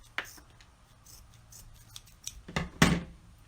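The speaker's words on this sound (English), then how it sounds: "So I'm just trimming off my sides now, just to make it neater and cleaner when I flip it over." Scissors trimming the sides of a homemade fabric face mask, a few quiet snips and then two louder close crisp cuts near the end, with no talk.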